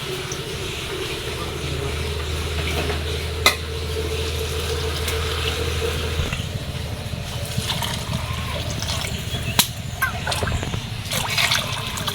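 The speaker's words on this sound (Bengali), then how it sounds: "এখন আমি পানি দিয়ে দেবো" Water pours and trickles into a pot of fried khichuri ingredients over a low background hum, followed by soft bubbling and liquid sounds.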